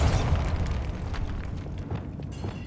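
A Bombarda spell explosion in Hogwarts Legacy erupts as a loud, deep boom that rumbles and decays over a couple of seconds, with crackling debris trailing off.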